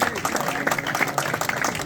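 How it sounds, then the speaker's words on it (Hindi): An audience claps in a dense, brisk burst at a prize distribution ceremony for pigeon racing in Birmingham, UK, close and fairly loud for under two seconds. "तालियां जनाब"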